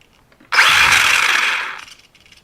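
Xinlehong Q903 RC car electric motor revving after a sea swim, still carrying sand and WD-40 on its tyres: one loud, close whirring burst lasting about a second, then quiet.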